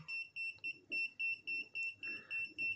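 A digital multimeter's non-contact voltage detector emits rapid, regular high-pitched electronic beeps at close range while tracing a live cable, with faint background noise underneath.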